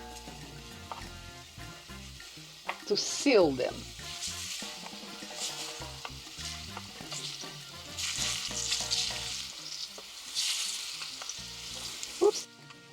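Plantain slices sizzle and crackle as they fry in a pan for a vegan Brazilian moqueca, a steady hiss broken by louder spattering bursts, with a person talking over the cooking.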